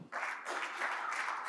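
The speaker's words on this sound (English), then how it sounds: "a huge round of applause for sir" Brief applause from a seated audience at a banking conference's inaugural address, a steady broadband patter of hands clapping that fills the short moment before the next speaker begins.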